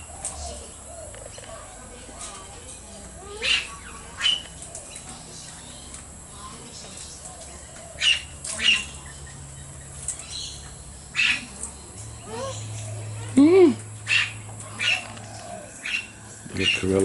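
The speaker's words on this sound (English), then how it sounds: "The corella's making noises." Little corella and a young king parrot perched together on a fence while feeding, giving short, sparse chirps and calls at irregular intervals over a quiet outdoor background with low rumble.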